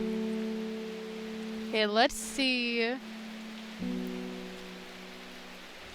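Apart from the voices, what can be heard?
rain in the video game Strange Horticulture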